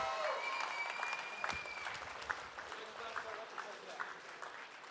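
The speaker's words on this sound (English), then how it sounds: "big round of applause then for all the generous people" A crowd at a charity fundraising auction applauds steadily, a sustained wash of clapping at moderate distance that carries on for several seconds.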